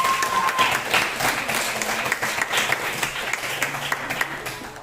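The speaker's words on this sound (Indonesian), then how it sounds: "Oke, beri tepuk tangan untuk kelompok." A classroom of students claps for a student group during an Islamic jurisprudence lesson, giving steady, moderately loud applause that gradually thins toward the end.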